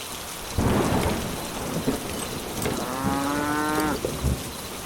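Steady rain and rolling thunder in a Bengali fairy-tale cartoon set at night, a dense hiss that sets in abruptly and holds throughout, with a long, drawn-out cow-like lowing rising over it near the end.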